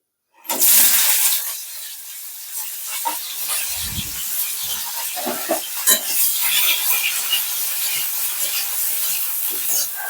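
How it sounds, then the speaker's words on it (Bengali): Cauliflower florets hit hot oil with a sudden loud burst of hissing and spitting, which settles into a steady, close frying crackle and some soft knocks, with no talking. "দেখো এখানে তেল গরম হয়ে গেছে দিয়ে দিচ্ছি ফুলকপি"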